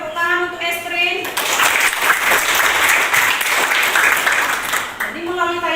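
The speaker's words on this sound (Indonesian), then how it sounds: "Tepuk tangan untuk Estrin." A classroom of students breaks into loud, dense applause for a pupil during a drama lesson, the clapping swelling for several seconds while a voice speaks briefly over its start and end.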